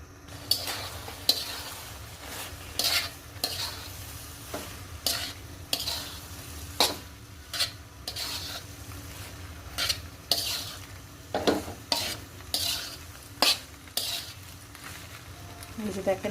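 Pasta being stirred in a pan with milk and cheese, a soft bubbling sizzle under repeated rhythmic scrapes and clinks of a utensil against the pan, roughly one every second, close and moderately loud.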